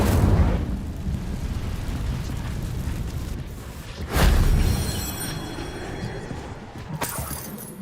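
An Incendio fire spell cast in the Hogwarts Legacy video game, a loud whooshing burst that erupts in a deep rumble and fades into a crackling tail, followed later by a sharper secondary pop.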